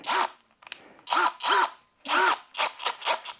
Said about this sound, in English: we're going to try out the flexible shaft